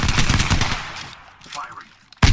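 Rapid automatic gunfire in a video game shooter, dense bursts of loud shots in the first second, thinning out with scattered reports, then a sharp final burst at the end.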